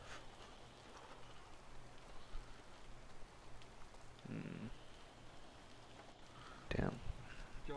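Quiet, steady patter of rain falling, with soft murmured voices and a few louder bumps and brief noises breaking through.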